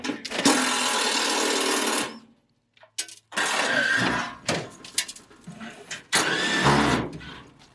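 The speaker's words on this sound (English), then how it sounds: "Yeah, I get to use a power tool." A loud power tool whirs in several bursts while building a rammed earth wall, stopping and restarting with short pauses between runs, close to the listener.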